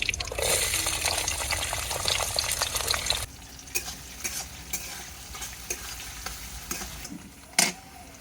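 Chopped onions and green chillies hit hot oil already holding bay leaves, cardamom, cinnamon and whole cumin, giving a loud, dense sizzle for about three seconds that then settles into a softer crackle with scattered scrapes and clinks of stirring.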